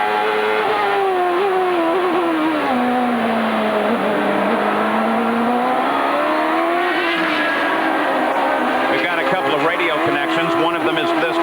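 Onboard engine of Michael Andretti's IndyCar at the 1996 Molson Indy Toronto street race, a loud continuous high-revving scream that rises and falls through gear changes, with commentary talk running underneath.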